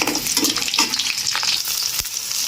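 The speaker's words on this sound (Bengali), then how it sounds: "এই যে রসুনটা লাল হয়ে আসছে, এবার দিয়ে দিব পেঁয়াজ" Minced garlic and onion sizzle and crackle in hot oil in a pan for chicken pasta, a loud, close, continuous frying with bursts of stirring and one sharp scrape near the end.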